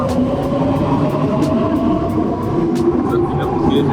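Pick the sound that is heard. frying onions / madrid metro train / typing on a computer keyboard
madrid metro train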